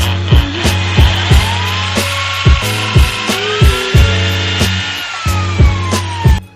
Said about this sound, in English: I'm gonna cut a notch out for the bolt.